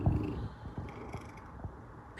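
A sick cat purrs close and soft, a low continuous rumble pulsing in slow, regular breaths with no voices present.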